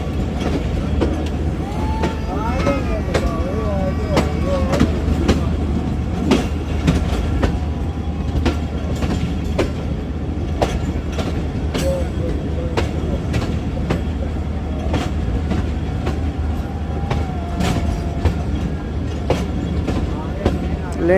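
The Awam Express passenger train runs on rails between Rawalpindi and Lahore, a steady loud rumble with rhythmic clickety-clack of wheels over joints, heard from onboard with voices talking beneath the noise.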